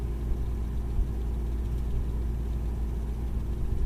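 Boat engines idling during bow-in docking, a steady low droning rumble that stays even and close throughout with no voices over it.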